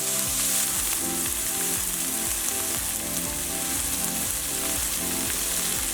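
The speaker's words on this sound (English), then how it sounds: "Next we'll add in our cooked sausage. Give it a stir and cook it for about another minute." Cooked sausage stirred and fried in a pan for spaghetti sauce, a dense, loud sizzle running throughout with rhythmic spatula scrapes every half second or so, close up and with no voices.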